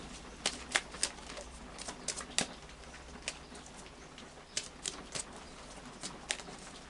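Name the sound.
shuffling a deck of oracle cards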